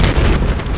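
An RPG rocket explodes in Battlefield 4 on the Kunlun Mountains level, a loud, dense boom with rumbling debris that fills the whole short moment.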